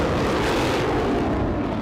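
A Patriot air defense missile launching, a single sustained roaring blast that fills the whole stretch loudly and evenly with no pause.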